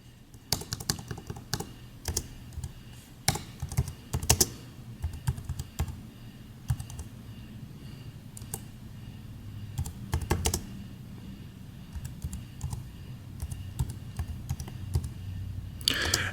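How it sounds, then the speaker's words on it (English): Steady, rapid typing on a Cherry KW7100 keyboard with scattered sharper key clacks, close and clear, continuing throughout with no voices. "Now, also at the same time, you can hear what the keys sound like."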